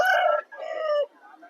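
At a native country rooster market in Vijayawada, a 2 kg billakatta abrasu-colored cock crows close and loud, one long drawn-out call breaking into a fading tail.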